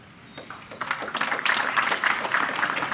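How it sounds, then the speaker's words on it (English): An audience claps while the KCSE 2021 top students list is read out. The clapping starts faint and swells into a fuller burst that carries on to the end. "you are clapping, I've not even read them"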